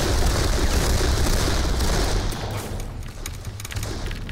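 Dense, rapid gunfire fills the Darkest of Days video game battle, a loud, continuous volley of overlapping shots that thins slightly toward the end.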